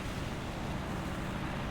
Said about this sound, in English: And now we really hear this T-72 engine